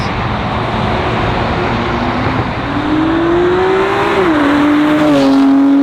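A loud BMW M2 with an Active Autowerke midpipe and Remus race exhaust approaches and roars past nearby, its raspy engine note rising and shifting as it goes by.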